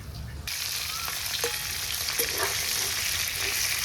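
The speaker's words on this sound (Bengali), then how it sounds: "ওই কড়াইটি কই মাছ ভেজে নিচ্ছি" Koi fish frying in a wok, a loud, steady close sizzle with a few small scrapes and pops.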